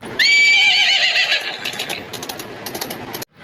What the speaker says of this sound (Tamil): கத்தியவாரில் ஆண் குதிரை கருப்பில் பஞ்ச கல்யாணி பாருங்கள்